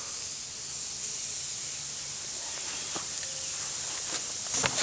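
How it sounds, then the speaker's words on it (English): Small pieces of pig jerky frying on a griddle over an outdoor campfire, a steady soft hiss and sizzle throughout with a few faint pops and crackles. "And we got our little pieces down there on the griddle. They're going to fry up real quick."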